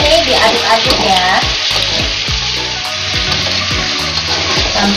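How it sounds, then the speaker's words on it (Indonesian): Chicken wings fry with garlic and ginger while being stirred, a loud, dense, unbroken sizzle heard up close. "Kita masukin bawang putihnya masuk ya sama jahenya. Kita cemplungin aja ke sini. Sama ayamnya ini diaduk-aduk ya."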